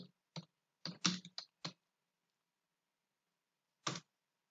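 Quiet computer keyboard typing while entering employee records: a quick burst of five or six separate key clicks, a pause of a couple of seconds, then one final keystroke in near silence.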